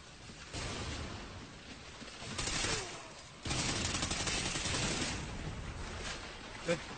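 Bursts of automatic gunfire in the video game Call of Duty: Ghosts, sustained rattling volleys in stretches with brief pauses between them, steady and moderately loud, with no talking.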